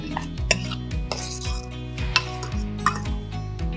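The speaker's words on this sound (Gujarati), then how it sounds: "એટલે એમાં નાખીશું હવે ટમેટાની ગ્રેવી" Tomato gravy added to a pan of sautéed green and dry garlic and onion, with repeated metallic clanks of a spoon against the pot over a low sizzle, close and fairly loud.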